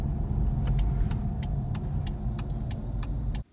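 A 2019 BMW X2 SUV drives with a steady, loud low engine and road rumble throughout, with faint regular ticking clicks on top, cutting off abruptly at the end.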